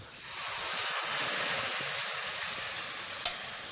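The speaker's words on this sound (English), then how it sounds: "Now I'm going to put the garlic and the chili inside." Garlic and chili hitting hot olive oil in a pan, a steady close sizzle and hiss with a faint stir, ending in a small clink.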